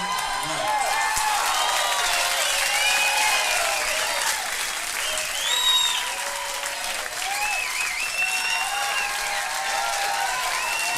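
A studio audience applauds steadily after a comedian, Steven Wright of Boston, is introduced on a live stand-up recording. Dense, even clapping with a few scattered whoops lasts throughout at a constant level, and no one speaks.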